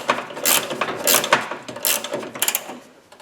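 A ratchet wrench clicks in quick bursts while tightening the tie rod steering parts on a Toro garden tractor. The close, crisp pawl ticks come in several short runs with brief pauses between them.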